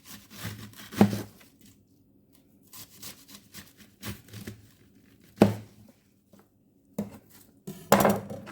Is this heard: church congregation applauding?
no